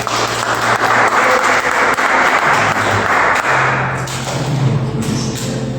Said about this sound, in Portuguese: Se pode aplaudir a Jesus com forte.